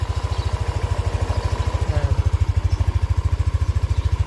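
A motorcycle engine idles steadily through its exhaust, a close, low, rapid pulsing rumble that stays even throughout.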